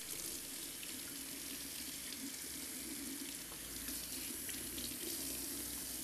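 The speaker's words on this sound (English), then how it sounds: "Opening it up, making sure the water is cascading downward, is covering the different layers of the scallion." Kitchen faucet water runs steadily as a scallion is washed under it, a constant close splashing hiss with no talk over it.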